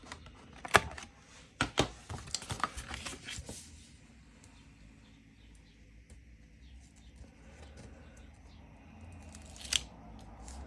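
Scissors snipping the corner of a rose gold paper envelope to round it: a few crisp close cuts clustered early, then quiet paper handling and one last snip.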